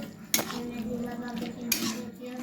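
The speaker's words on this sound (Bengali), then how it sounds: "ছানাটা অ্যাড করার পর খুব ভালোভাবে এভাবে মিশিয়ে নিতে হবে।" A metal spatula scrapes and clinks against a pan while chhana curry is stirred, two sharp knocks standing out over a soft, steady sizzle, close by with no talking.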